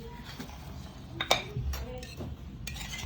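A spoon mixing maida flour dough with ghee in a bowl for naan, giving light scattered scrapes and clinks with one sharper knock near the middle.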